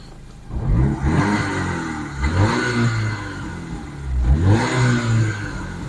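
A Daewoo Nexia with a 1.6 engine revs close by in two strong swells, the idle climbing to a loud rising whine and dropping back each time, with no talk over it.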